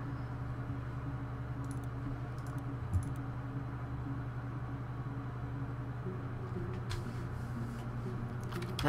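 Scattered bursts of keyboard typing during the computer game Her Story, quick key clicks arriving in short clusters over a steady low electrical hum, fairly faint with quiet gaps between.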